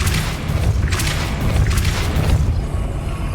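In Hogwarts Legacy, a Depulso spell blast goes off as one loud, booming rush of force that rumbles for a few seconds before fading.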